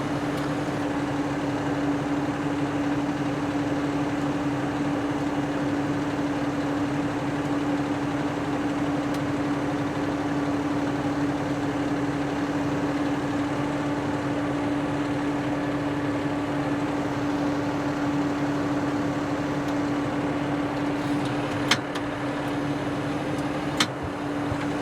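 A John Deere 5075E tractor engine runs steadily at moderate throttle while powering a post hole digger, a constant droning hum with a strong steady tone, heard close and unchanging, with a couple of faint clicks near the end.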